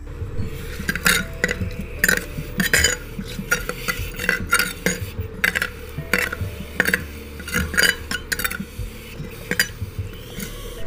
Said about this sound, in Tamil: இப்போ இதெல்லாம் போட்டுட்டு நல்லா வதங்குற அளவுக்கு கிண்டி விடணும்